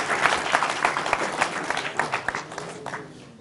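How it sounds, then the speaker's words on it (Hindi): Studio audience clapping on a television talk show, a fairly brief burst of applause with distinct individual claps audible, gradually thinning and tapering off. "बहुत तालियां जी।"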